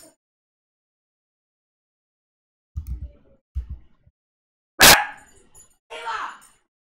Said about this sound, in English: That would be the dog.